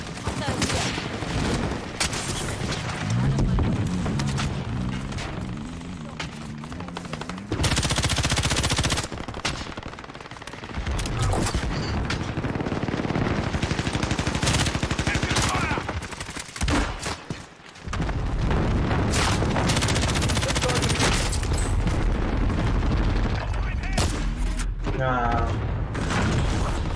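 Automatic and single-shot gunfire from a Call of Duty video game rattles in loud, continuous bursts with booms, while players talk over the shooting throughout.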